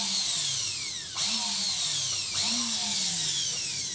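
A serviced Makita sander's motor runs alone with no sanding pad fitted, a loud steady high whine that dips and surges back up twice in a repeating cycle.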